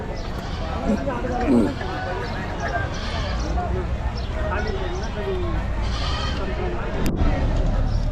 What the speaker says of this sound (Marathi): काठेवाडी शाळा आहेत बघा तर मग मोठ्या मापाच्या शाळा आहेत